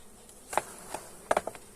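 Honeybees at an opened hive make a faint, sparse buzz, with a few short, quiet bursts of individual bees passing close over soft background noise.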